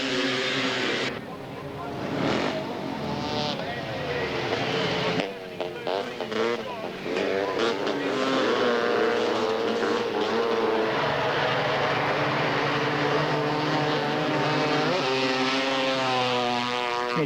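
Long track speedway motorcycles race on the Bathurst dirt oval at the 1989 Australian Long Track Grand Prix, engines droning and rising in pitch as the bikes pass, with an announcer talking over them throughout.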